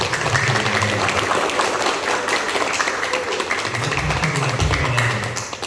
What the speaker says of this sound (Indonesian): Tepuk tangan buat Pastor.